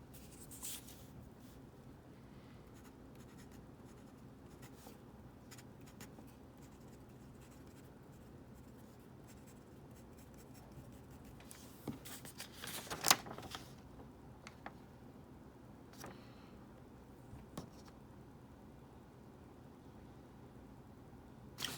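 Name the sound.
writing with Lamy fountain pen nibs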